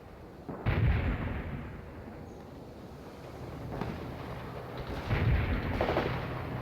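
Booming artillery fire in the World in Conflict video game, with a few heavy, rumbling blasts spaced seconds apart over a low, continuous battlefield wash.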